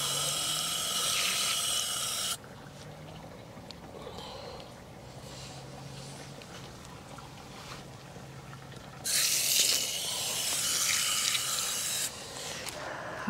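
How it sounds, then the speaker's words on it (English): Ranunculus and gladiolus bulbs are rinsed under a running tap, with loud broadband water spray starting and stopping in bursts and quieter handling and splashing between the runs. "Gonna rinse these all off, and we'll have a better look at them"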